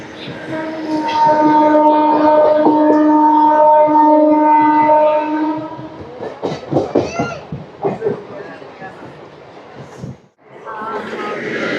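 A MEMU train on the Vijayawada to Machilipatnam run overtakes the Thiruvananthapuram–Shalimar Express, with a loud, steady tonal drone for the first several seconds before a voice talks over the running noise.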